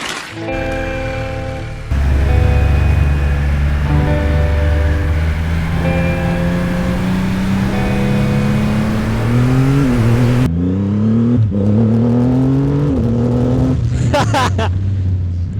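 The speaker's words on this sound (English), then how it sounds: "let's ride the biggest bike I've ever ridden, both weight-wise, displacement-wise, and I guess torque counts too" A Triumph Rocket 3 Storm R motorcycle, a very large high-displacement, high-torque bike, rumbles loudly and close, its engine note rising through gears with brief dips at shifts while a rider talks over it.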